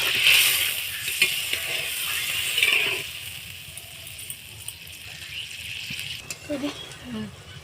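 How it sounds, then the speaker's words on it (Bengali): Water and fried potatoes bubbling in a pan for a potato and onion-fritter curry, a steady soft sizzle and simmer that runs through the whole stretch with a few light clinks. "এখানে আমি একটু জল দিয়ে দিলাম তারপরে ভেজে রাখা আলুগুলো দিয়ে দিলাম দিয়ে একটু ফুটতে দেবো"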